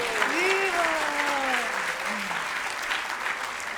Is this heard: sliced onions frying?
no